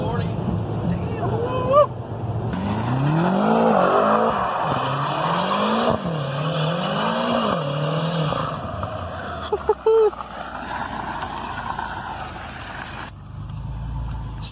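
A 2013 BMW M5 on its stock exhaust accelerates hard and loud through several rising gear pulls, with brief shift breaks, and quick voices near the end.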